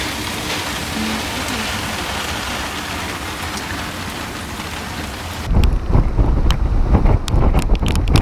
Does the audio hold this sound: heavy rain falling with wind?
yes